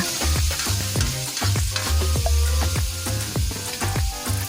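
Squid and long green chilies stir-fry in a hot pan, a loud steady sizzle with repeated sharp scrapes and clanks of the spatula against the metal, close and continuous.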